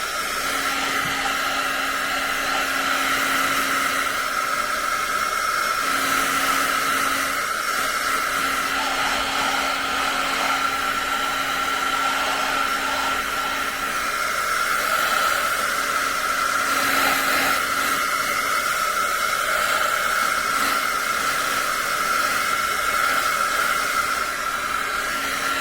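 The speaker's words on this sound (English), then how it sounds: "let me dry this off now. I'm going to use this dryer here," A hair dryer blows steadily at close range, drying a watercolor painting of wildflowers; a constant loud whirring hum with a fixed motor tone runs unbroken throughout, with no talk.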